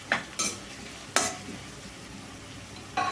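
Onions sizzle softly in a pan, broken by a few sharp scrapes as a spoon stirs them, spaced irregularly over a quiet frying hiss.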